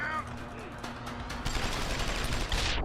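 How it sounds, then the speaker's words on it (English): Enemy gunfire in Deus Ex: Human Revolution rattles in dense rapid bursts, thickening toward the end, mixed with other game sounds and a person talking. "What's he shooting at?"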